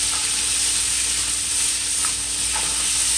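Celery and other vegetables sautéing fast in a hot pan for shrimp chow mein, giving a loud, continuous, close sizzle with a few faint stirring knocks and no speech.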